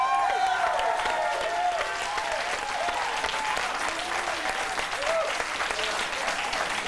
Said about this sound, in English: Please hear a huge applause for Stephen Piercy